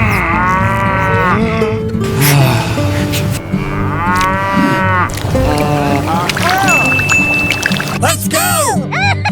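Cartoon cow mooing repeatedly amid busy animated soundtrack with music and sound effects, several drawn-out moos over a steady loud background, voices present.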